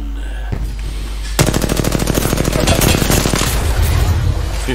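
Dense automatic gunfire rattles in rapid bursts during an Apex Legends match, loud and close, preceded by a brief lower thud and layered over game ambience.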